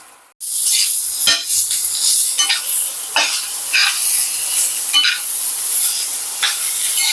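Peanuts are roasted in a hot pan with sizzling oil, a loud steady crackle broken by repeated scraping strokes of a spoon stirring, with no talk.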